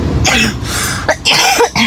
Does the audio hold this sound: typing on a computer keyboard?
no